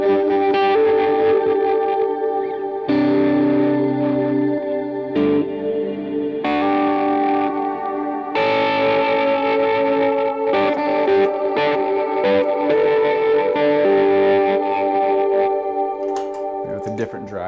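An electric guitar runs through a pedalboard on a Big Sky Cloud reverb patch, with sustained chords swelling into a lush, shimmering wash that holds between strums, steady and moderately loud.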